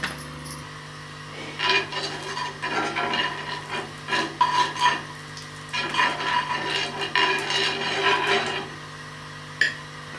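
Ghee being spread across a hot tawa griddle before cooking an aloo paratha gives bursts of rasping, rubbing strokes, close and fairly loud, over a steady low hum.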